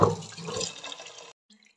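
A little water poured into a container to soak ingredients for a sambar, a brief splashing pour lasting about a second before cutting off abruptly, leaving faint small clinks.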